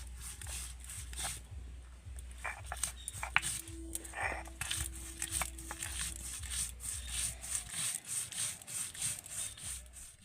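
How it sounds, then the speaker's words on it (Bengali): Soaked poppy seeds are ground into a paste with a little water on a grinding stone for an egg curry, making steady, rhythmic rubbing and scraping strokes, close and fairly soft. "আস্তে আস্তে জল দিয়ে কিন্তু আমি পোস্তটাকে বেটে নেব"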